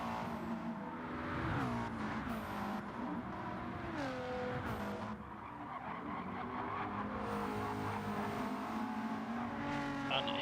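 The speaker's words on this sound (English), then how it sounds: "And Clarky trying to upset the McLarens and put a BMW on the podium here" Racing cars in a video game race at the Dragon Trail Seaside circuit, including a BMW and McLarens, roar steadily with rising and falling engine notes and bursts of tyre squeal, loud and continuous.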